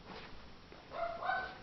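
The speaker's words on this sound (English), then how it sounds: "I apologize for the dog in the background" A faint dog bark or two in the distance, brief and muffled against a quiet background.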